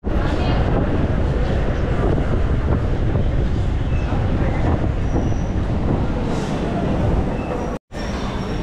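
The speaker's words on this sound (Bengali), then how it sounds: "বহুদিন পর এরকম লোকাল ট্রেনের জার্নি আপনাদের দেখাতে পারছি ভিডিওতে" Inside a local passenger train running from Chennai Park to Chennai Egmore, a loud, steady rumble and rushing wind-like roar fill the carriage without a break, dropping out only for a brief moment near the end.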